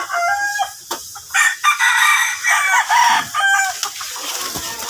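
Fighting roosters kept in cages crow loudly and close by, several long crows overlapping with short clucks between them.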